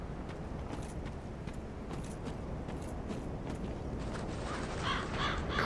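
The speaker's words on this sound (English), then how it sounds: "Crows." Crows caw in Dark Souls 3, several harsh calls clustering near the end over a dense, steady wash of in-game ambience and noise.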